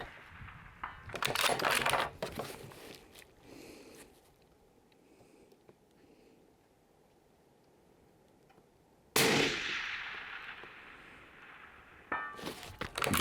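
Benelli Lupo rifle shots ring out outdoors at AR500 steel deer targets, a couple of sharp loud cracks with a faint distant clang between them, separated by long quiet stretches.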